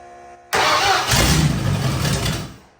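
A 400 hp Ford 351 V8 swapped into a Toyota AE86 fires up for the first time, with a sudden loud catch and a roaring, rumbling run that settles and fades out, close to the car with no talking.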